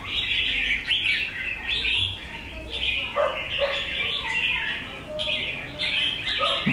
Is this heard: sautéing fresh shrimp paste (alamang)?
no